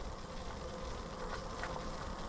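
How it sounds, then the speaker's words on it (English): Honeybees buzz during a hive inspection, a faint continuous hum layered over steady outdoor background noise with no talking. "I'm going to try to get as many of the rest of these bees off here without having to get the brush and brush them off."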